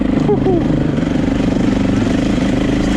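2004 KTM 525 EXC four-stroke dirt bike engine running hard on choppy terrain, a loud steady throbbing drone with quick brief rises in pitch, close up throughout.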